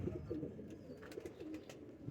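A male pigeon coos softly in low, rolling phrases, faint and close, against a quiet background hiss.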